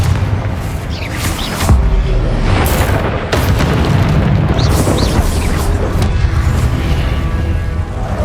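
Repeated booming blasts from the Confringo fire spell in Hogwarts Legacy, several loud explosive bursts in quick succession over a rumbling battle bed, with a voice speaking between them.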